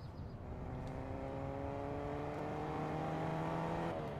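A car in Fortnite drives past, its engine hum rising steadily with stacked harmonic tones, fairly close and continuous throughout with no talk.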